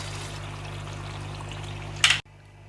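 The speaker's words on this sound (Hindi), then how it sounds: "यहाँ मैं 1 कप पानी शामिल करूँगी" Water poured from a cup into a pan of peas cooking in spiced masala for matar pulao, a steady soft trickle that swells into a brief louder splash near the end before stopping abruptly.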